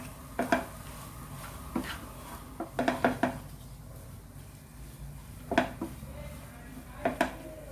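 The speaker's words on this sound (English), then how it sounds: "Mix it nicely." A spoon stirring and scraping chicken keema cutlet mixture in a bowl, soft knocks and clinks landing in small irregular clusters against a quiet kitchen background, close and moderately faint.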